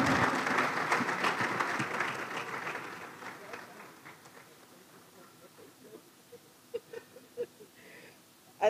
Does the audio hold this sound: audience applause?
yes